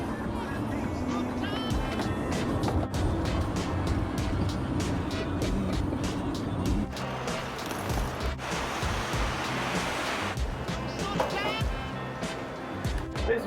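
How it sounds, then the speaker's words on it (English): Airport shuttle bus from a hotel driving fast, with loud continuous road and engine roar, rattling and rushing noise, and voices talking throughout. "we are here on the shuttle bus from the hotel to the airport, and it is a wild ride"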